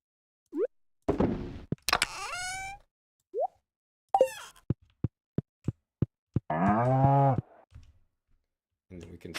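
Cows moo in the farming video game Stardew Valley, a couple of drawn-out moos among short game plops and a regular series of clicking taps, with a quiet voice briefly in between.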